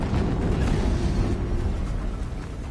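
Another explosion in the video game Horizon Zero Dawn, a heavy low rumbling boom that stays loud and thick, then slowly fades toward the end.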